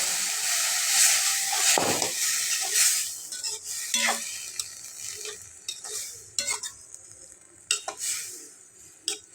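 A spoon scrapes and stirs through a flat-bean curry in a pan after water is added, irregular clinks and scrapes over a soft sizzle, close by, with no talking.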